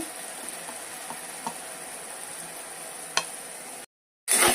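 Ginger garlic paste and turmeric sizzle softly in a pan with a few light stirring clicks, the frying fading into a brief silence before a louder burst of sizzle returns.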